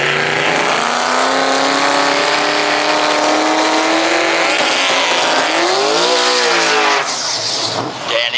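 Drag race cars accelerate hard at a drag racing and drifting event, engines revving loud and close with rising pitch sweeps, tire squeal mixed in, continuous for about seven seconds before trailing off.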